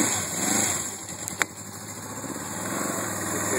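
1980 Suzuki GS450 S motorcycle engine cold-starting without choke, running with a steady rough idle drone throughout and a brief click partway through, close and fairly loud.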